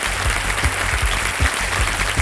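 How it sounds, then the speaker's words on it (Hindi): Studio audience applause welcoming new contestants on the Indian quiz show Kaun Banega Crorepati, a steady crackle of many hands clapping with a few deeper rhythmic beats underneath, moderately loud and continuous without talk. "जोरदार तालियों के साथ मैं चाहता हूँ कि उनका स्वागत किया जाए"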